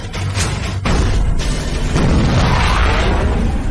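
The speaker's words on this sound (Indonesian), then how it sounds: "Ternyata ini cuma mainan sulap kembang api" A magic firework toy goes off in a run of loud, booming bangs and crackling bursts, harsh and close, with a fresh blast near the start of each second.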